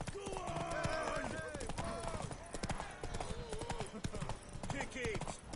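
Horse galloping in the game Witcher III, rapid clip-clop hoofbeats driving along with occasional snorts, while voices shout and talk over the race.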